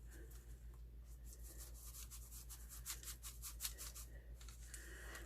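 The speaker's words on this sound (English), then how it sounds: "I just rub that particular section until it comes down to where I want it to go" Hand rubbing along the edge of a craft dragon eye to smooth it down, a soft, steady close scrubbing with faint repeated strokes over a low background hum.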